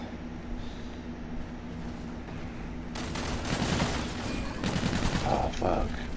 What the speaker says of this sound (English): They're shooting through that fucking metal on me, ain't they?